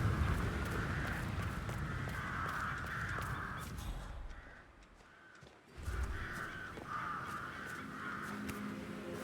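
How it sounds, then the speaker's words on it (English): In a Hitman 3 game scene, crows caw repeatedly in harsh, rhythmic bursts over a low ambient rumble. The calls pause briefly in the middle, then resume just as steadily. "I'll never get rid of those stupid birds."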